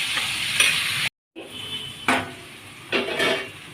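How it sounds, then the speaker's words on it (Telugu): Curry leaves fry in hot oil in a pan for a tomato pulusu tempering, a bright sizzle punctuated by several scraping stirs, with one short break in the sound. "అలాగే కొంచెం కరివేపాకు వేసేసుకుందాం. వేసి బాగా వేసేసుకుందాం."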